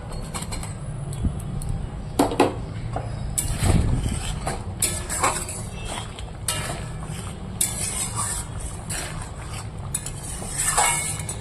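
Fried prawns go into a pan of simmering gravy and are stirred with a spatula, giving close metallic scrapes and clanks against the pan in irregular bursts over a low background, with no talking.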